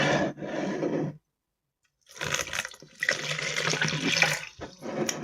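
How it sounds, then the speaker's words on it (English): Water tipped from a container onto a cocoa fibre block sitting in a jug, heard as a loud rushing splash, a pause of silence, then a longer sustained pour with gurgling. "We're going to put the cocoa fibre block in the jug and then tip the water on and leave it to soak."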